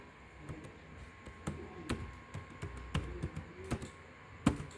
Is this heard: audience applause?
no